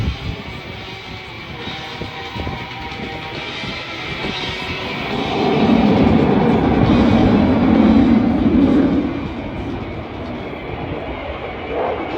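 A Eurofighter Typhoon FGR4 jet roars through a display at an airshow, its reheat thrust swelling to a loud, broad rumbling peak mid-clip before easing back to a steady distant roar.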